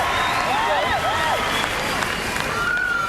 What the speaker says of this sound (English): the Newcastle crowd with the arms in the air, listen for the whoosh